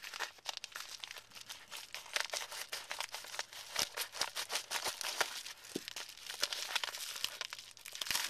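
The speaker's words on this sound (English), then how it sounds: "So I'm gonna unbox this for you real quick" Close, quiet crinkling and rustling of plastic packaging as a pair of black steel ear tunnels is unboxed and torn open, with scattered crackles throughout.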